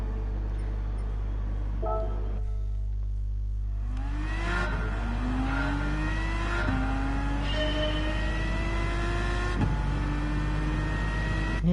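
Car engine in Gran Turismo 7 during a race at Daytona, loud and continuous, rising in pitch through repeated gear changes with a steady drone throughout.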